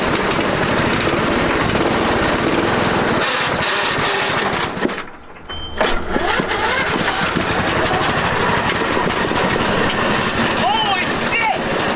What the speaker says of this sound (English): It's time to officially test the racing mower.